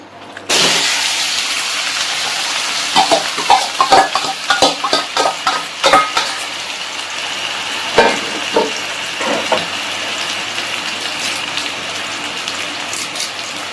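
Marinated chicken for a roast drops into lightly heated oil and sizzles loudly and steadily up close, with sharp spatters and stirring clicks over the constant frying hiss.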